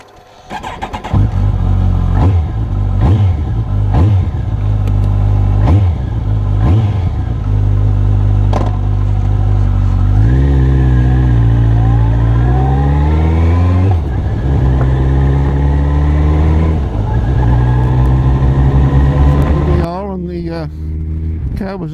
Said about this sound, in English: it also has the Aquaprovic exhaust, which sound absolutely phenomenal.